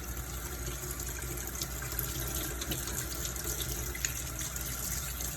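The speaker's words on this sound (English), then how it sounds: "Let's rinse it off and get all that stuff off." Tap water runs steadily over an egg being rinsed, a continuous close splashing gush that holds an even level throughout with no voices.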